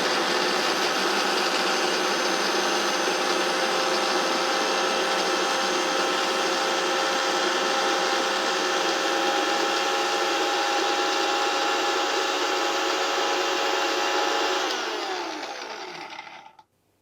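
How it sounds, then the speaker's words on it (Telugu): A mixer grinder blends grated carrot with a loud, steady whirring drone that runs unbroken and close, then winds down and stops near the end. "ఫస్ట్ మనం క్యారెట్ని తురుము చేసుకోవాలి. సో, క్యారెట్ని మనం మిక్స్ చేసుకోవాలి."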